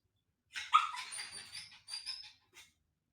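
A hungry pet dog named Chonchon whimpers and yips for food in a string of short, high, plaintive cries, close and clear against a silent background.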